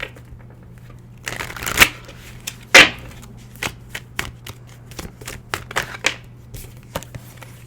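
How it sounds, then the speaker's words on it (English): A deck of tarot cards is shuffled up close, with quick riffles and sharp bursts of card flutter, then a run of softer taps and slides as the cards settle, with no talking. "Pulling a card for each sign now."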